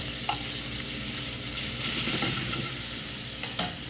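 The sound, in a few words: shrimp sizzling in pan with ginger and soy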